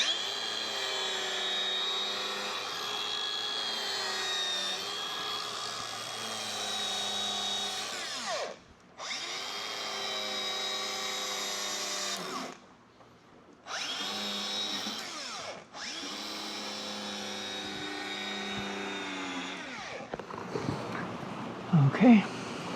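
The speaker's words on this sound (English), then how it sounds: "first things first, die grind a groove if I can" Die grinder cutting a groove into the steel hull of a sailboat under restoration in Wrangell, Alaska, a loud high-pitched whine in long sustained runs broken by a few short stops, with a voice briefly heard near the end.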